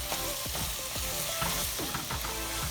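A spoon works through a pot of jambalaya rice dish on a hot burner, with repeated scraping strokes over a constant sizzle, close and steady, no talking.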